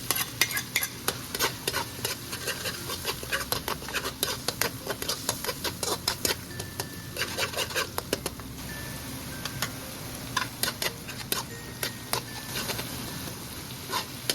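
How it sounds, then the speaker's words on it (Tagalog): Garlic and onion fry in a pan for buttered garlic Cajun shrimp and sausage, with a loud steady sizzle and rapid, rhythmic scraping and tapping of a spatula on the pan throughout. "Hintayin lang natin mag-brown ng konti yung ating nilagay na bawang at sibuyas"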